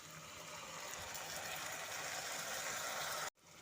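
Water from rinsing a spice-and-yogurt bowl poured into a pan of spicy Bengali brinjal curry on low heat, a steady close sizzling hiss that builds for a few seconds, then cuts off abruptly.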